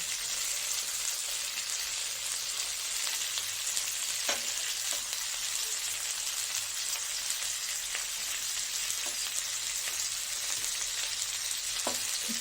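Ground cumin, salt, turmeric and red chilli fry in hot oil for a light fish curry with new vegetables. The steady, moderate sizzle carries on throughout, broken by occasional faint clicks from stirring.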